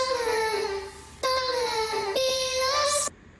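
A vocal chop pitched up seven semitones but keeping the original sample's formant gives a less squeaky sung voice in three sustained phrases that bend in pitch. The last phrase stops abruptly, and nothing else sounds behind the voice.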